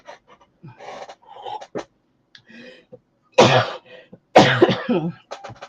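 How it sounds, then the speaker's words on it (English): Several harsh coughs and throat-clearing bursts, the loudest two close together near the end, mixed with breathy sounds and short quiet pauses. "I started coughing"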